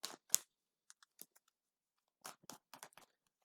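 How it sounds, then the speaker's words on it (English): A mermaid tarot deck is shuffled by hand in a quiet room, giving short papery riffles and flicks in scattered bursts, close and soft, with no one talking. "No, I'll show the shuffling."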